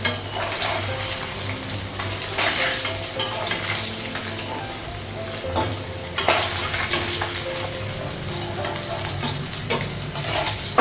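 Fish fry in hot oil in a pan with a dense, continuous sizzle, broken by a few sharper crackles and clatters of stirring, close and fairly loud with no talk.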